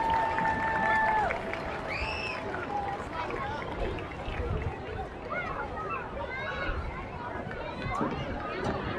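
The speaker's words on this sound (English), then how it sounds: "Everyone in the white shirts, let's give them some applause." A stadium crowd at a high school football game cheers and claps in a broad, sustained wash of noise, with whistles and shouts mixed into the hubbub.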